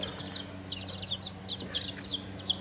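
Small baby chicks being raised off the grid chirp in rapid, high, repeated peeps, a steady flurry of overlapping calls close by over a low background hum.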